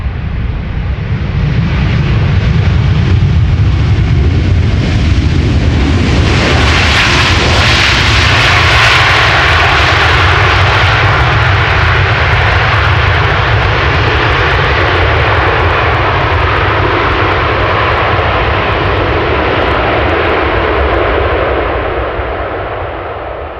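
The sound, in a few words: airliner jet engines landing on Schiphol Polderbaan runway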